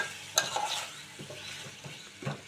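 Potato pieces cook in a pan for a potato-tomato curry with a soft steady sizzle, broken by a few stirring scrapes and light clinks, close and fairly quiet.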